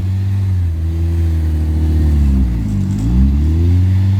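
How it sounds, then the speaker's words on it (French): A rally car engine idles loudly and close, its deep steady hum briefly dipping and rising in pitch as the revs change, with no talk over it. "On entend le bruit du moteur."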